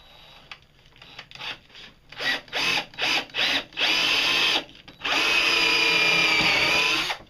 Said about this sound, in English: I'm going to drill one hole right here